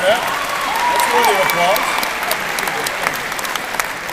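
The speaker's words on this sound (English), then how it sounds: "That's worthy of applause." Rally crowd applause at a campaign speech, a steady wash of clapping with whoops and cheering voices rising above it, fading slightly toward the end.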